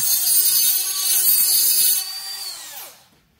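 A rotary tool grinds the port of an Echo 7310 chainsaw cylinder, a steady high-pitched whine running close and loud for about two seconds before spinning down and fading to silence.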